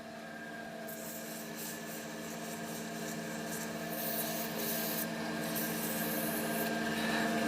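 An epoxy resin shaving brush handle blank spins on a lathe while being sanded, giving a continuous rasping hiss over a steady motor whine that grows gradually louder, with no one talking.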